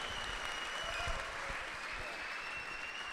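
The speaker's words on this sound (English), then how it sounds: "We could clap for that." An audience claps steadily for a few seconds, a soft, even patter of many hands heard from a distance, faint and continuous without voices over it.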